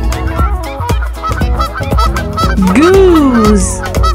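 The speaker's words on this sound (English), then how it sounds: "Goose." A goose gives loud nasal honks, one rising and falling call standing out, close and clear over a rhythmic music bed.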